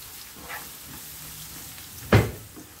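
Diced onion with a spoonful of flour fries in a pan, a soft steady sizzle with a sharper clatter as it is stirred near the end.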